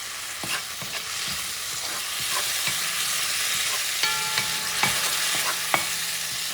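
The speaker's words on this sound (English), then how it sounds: "And move things around." Sofrito and sazón base with a touch of turmeric sizzling steadily in a pan while being stirred, with scraping clicks from the utensil coming and going over a constant close frying hiss, no talking.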